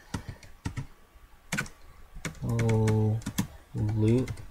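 Keys tap on a computer keyboard while a search phrase goes into the YouTube search box, with scattered clicks running between stretches of a voice and a steady hum in the background.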